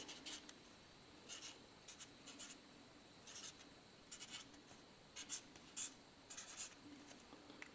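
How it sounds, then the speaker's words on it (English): Pen or pencil scratching out a short handwritten note during a carburetor repair on a 1989 Yamaha WR500f Waverunner, quiet bursts of strokes with pauses between, close and soft in a still room. "I'm going to write that down."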